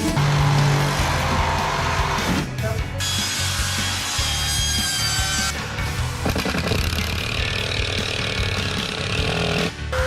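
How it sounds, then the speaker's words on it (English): Power tools sawing wood at a house build, with rough grinding cuts and rasping strokes that stop and restart several times, loud and close with busy work sounds around them. "The power tools make their own kind of music."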